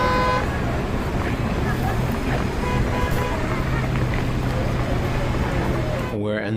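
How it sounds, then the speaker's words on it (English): Sea waves washing in off the coast of Tel Aviv, a steady full-band wash of surf with a low boat-like hum underneath, continuous and fairly loud throughout before cutting off at the end. "You can hear the waves."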